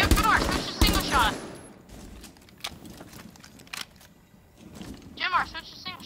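Gunfire in Rainbow Six Siege on Xbox One opens with heavy, close bursts, then scattered shots follow. Players talk over the shooting.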